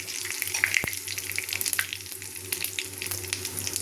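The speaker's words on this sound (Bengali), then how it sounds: "ফোড়ন দিয়ে দিলাম, তেলটা গরম হয়ে গেছে।" Whole spices sputtering in hot oil in a pan while cooking rajma, a soft continuous sizzle with scattered crackling pops and an occasional clink, close and fairly quiet, no talking over it.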